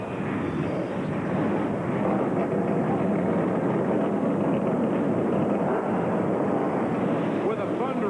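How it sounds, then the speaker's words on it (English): Thirty-four NASCAR Craftsman Truck Series trucks firing up at Sears Point Raceway in 1996, a dense, loud, continuous engine roar that fills the whole stretch evenly, with broadcast commentary mixed underneath. "With a thunderous roar, 34 NASCAR Craftsman Truck Series entries come to life at Sears Point Raceway."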